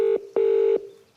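Two telephone keypad tones sound from a phone-connected steel water bottle, a short beep then a longer one after a brief gap, clear and close with quiet after.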